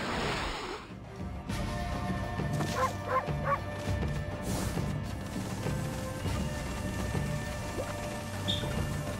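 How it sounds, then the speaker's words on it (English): A cartoon dog barks in the video game Okami: a few short yips near the start of the game scene, heard over busy in-game music and effects. "I also wanted to bark, because that's obligatory."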